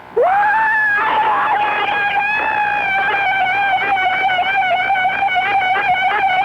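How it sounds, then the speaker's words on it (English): A caller on a radio call-in show lets out a long, sustained primal scream over the phone line, one loud, unbroken, strained howl lasting several seconds. "Creative primal screaming."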